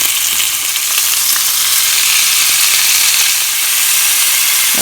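Pork chops sizzle steadily in a hot skillet, a loud, continuous frying hiss with no pauses and no one talking.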